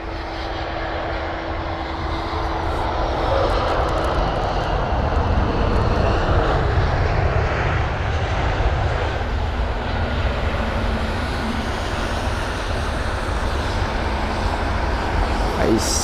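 An Airbus A320 with sharklets, ten years old, arriving at London Heathrow from Glasgow at night, its engines a steady, fairly loud broadband roar that holds for the whole stretch.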